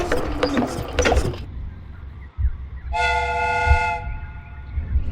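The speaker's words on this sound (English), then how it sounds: "The steam whistle is ready to be used." A train's steam whistle in a Sherlock Holmes mystery game blows one steady, clear, about one-second blast after mechanical clatter and a quiet pause.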